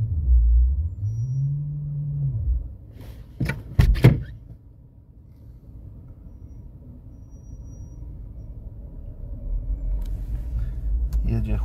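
Car rolling on wet, snowy tyres with traction control switched off, a low steady hum and rumble throughout, a swelling engine note near the start and a few sharp knocks partway through.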